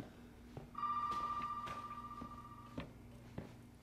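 A telephone rings in the Resident Evil 7 game, a single sustained electronic ring tone over a low droning backdrop punctuated by a few dull knocks and thumps, no talk.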